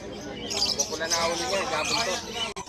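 Lutino birds at the Hulong Duhat pet market in Malabon chirp in a dense, continuous chatter of high tweets beneath a voice.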